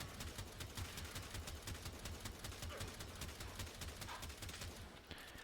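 The Tiberon Prime rifle in Warframe fires in semi-automatic mode, a rapid, evenly spaced series of sharp shots close up, steady throughout before easing off at the end.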